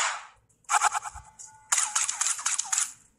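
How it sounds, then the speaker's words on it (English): Two quick bursts of sharp, crackling gunshots from the Titan pistol in the video game Fortnite, close and loud, separated by a short pause with no talking. "that's a Titan pistol already"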